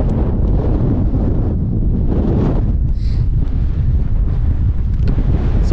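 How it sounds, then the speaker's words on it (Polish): Strong, gusty, freezing wind on an exposed ridge of the Swiss Alps, roaring and buffeting the microphone loudly and continuously, with surges and brief lulls. "Ale wiatr jest przejmujący, bardzo, bardzo mroźny i bardzo teraz porywisty się zrobił."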